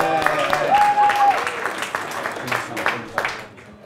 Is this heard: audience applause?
yes